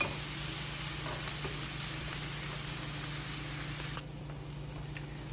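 Red curry vegetables frying in a pan, a steady close hiss and sizzle of continuous spitting oil that drops slightly in loudness near the end, with no talking.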